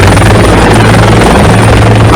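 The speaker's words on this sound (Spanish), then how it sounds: "los helicópteros de rescate de la NRMA fueron llamados para evacuar a la niña" An NRMA rescue helicopter is heard with a loud, steady rotor drone and chopping hum that fill the whole stretch, close and continuous.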